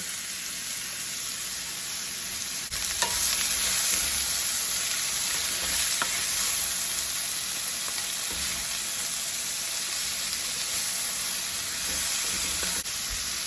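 Sliced onions sizzle steadily in olive oil in a skillet, a constant bright hiss and crackle with occasional stirring clicks and no talking.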